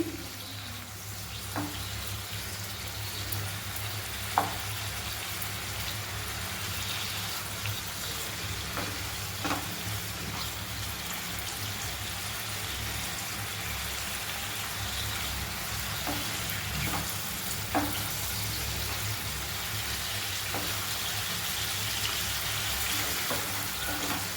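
Paneer and cashews frying on a medium flame sizzle steadily and close by, with occasional sharp clicks and scrapes of stirring. The sound stays even throughout.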